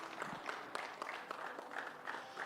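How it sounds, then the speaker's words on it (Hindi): Faint applause rises from attendees at a Madhya Pradesh MSME summit during a lamp-lighting ceremony, with distinct individual claps standing out in an irregular rhythm from a distance. "तालियां बजती रहनी चाहिए।"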